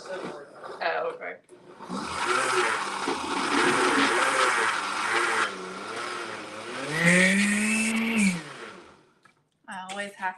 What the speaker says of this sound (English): I don't have a high powered blender